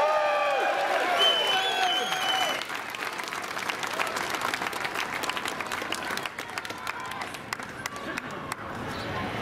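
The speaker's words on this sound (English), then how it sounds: "Come on, a big round of applause for Sydney Watson!" Applause from a crowd at a men's march rally, a dense wash of clapping that starts with a few shouts and cheers, then settles into steady sustained clapping throughout.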